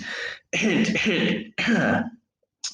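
Three close, harsh throat-clearing coughs from one person, each roughly half a second to a second long, separated by brief silences, with a faint start of another at the end.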